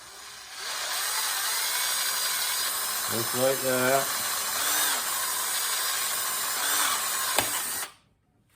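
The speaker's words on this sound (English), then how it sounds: "I'm gonna drill a hole right at the T." A power drill bores a hole through the plastic side plate of a 1979 Yamaha 100MX motorcycle, a steady high whine running several seconds with brief pitch changes, while someone speaks briefly during the drilling.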